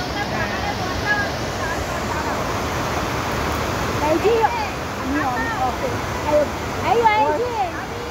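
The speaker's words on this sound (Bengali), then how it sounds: "ওই দেখো ওই ঝর্ণাটা দেখো" A waterfall roars with a steady, rushing wash of water, and voices talk faintly over it.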